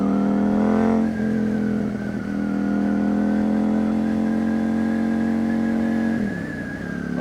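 Engine of a newly bought motorcycle, loud and close, pulling steadily through acceleration with a sustained harmonic drone that dips briefly and then holds high for several seconds, with no talk over it.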